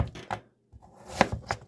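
A knife chopping daikon and carrots for pickling, a few sharp close chops, a brief pause, then another quick run of cuts.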